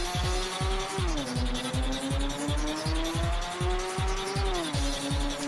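Engine whine and repeated tire squeals from a racing car drifting in the video game Rage Racer, a steady loud engine tone with rhythmic screeching skids recurring through the clip, no talking.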